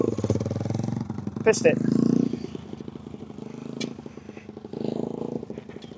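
Small pit bike engine ridden by a beginner, buzzing and juddering at low revs with brief surges of throttle, heard close under an instructor's talking.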